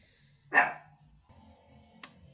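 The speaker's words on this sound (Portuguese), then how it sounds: "meu cachorro começou a latir" A single sharp dog bark rings out close by, followed after a pause by a much fainter short click, with a quiet room otherwise.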